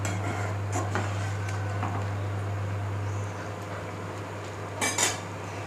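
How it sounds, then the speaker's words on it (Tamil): A spoon stirs millet upma in a cooking pot, with soft scraping and a few metallic clinks against the pot over a steady low hum, ending in a louder clatter. "ஒரு கிண்டுனா போதும்."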